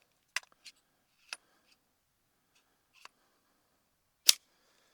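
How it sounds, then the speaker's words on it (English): Sharp metallic clicks and snaps come from clearing the magazine of a Smith & Wesson M&P 22 Magnum pistol after a failure to feed, a few isolated close ticks in near silence with one louder clack at the end. "I'm gonna clear the mag"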